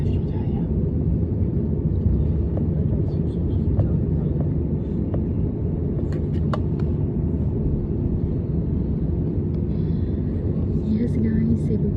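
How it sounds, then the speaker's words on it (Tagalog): A Cebu Pacific airliner's engines roar in a steady low rumble from inside the cabin during takeoff, with occasional faint clicks and a person talking over it. "Take off na ang ating sinasakyang eroplano."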